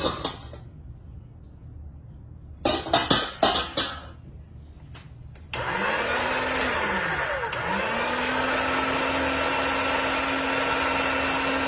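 An electric machine pressing tomatoes for canning starts up with a rising whine and settles into a steady loud motor hum, briefly dipping in pitch, after some clattering handling sounds.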